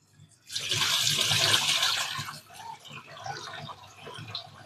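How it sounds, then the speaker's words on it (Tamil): Soaked grains such as ragi, pearl millet, sorghum and little millet are rinsed in water for idli batter. After a quiet start, a loud, close splash and pour of water runs for about two seconds, then gives way to lighter sloshing. "ஃபஸ்ட்டு தண்ணி விட்டு ரேசாக அலசிட்டு நம்ம தண்ணியை வெளியே ஊற்றிடணும்"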